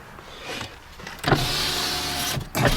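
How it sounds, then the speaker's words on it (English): Power windows on a 2003 Chrysler PT Cruiser Touring whir as they move, a steady electric motor hum with a clunk as travel stops, followed by a second short run, close and fairly loud inside the cabin. "Windows do work."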